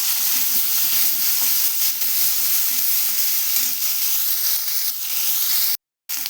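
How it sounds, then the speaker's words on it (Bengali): Potatoes sizzle and hiss steadily in hot oil in a pan, a loud, constant frying sound with no talk, cut by a brief silent gap near the end. "আলুটা ভেজে নেব সবগুলো আলু ভেজে নেব লাল লাল করে"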